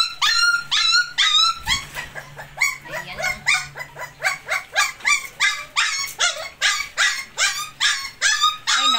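Several puppies bark, yip and whimper constantly, searching for their mother. The rapid high-pitched calls overlap and come from close by for the whole stretch.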